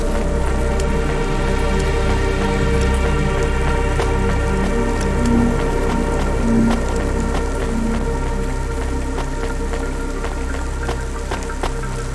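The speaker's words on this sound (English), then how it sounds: "Don't let all the rain get you." Rain in the video game Cloudpunk pours steadily and loudly across the whole stretch, a dense patter on surfaces with scattered sharper drops and faint tonal background hum, no voices.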